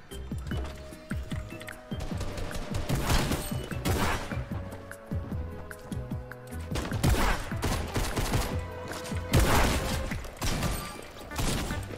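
Shotgun gunfire in a shotgun-only video game match, dense and repeated blasts in rolling bursts with game effects layered in, loud and continuous throughout.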